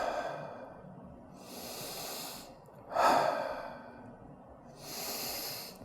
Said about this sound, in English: 3 breaths.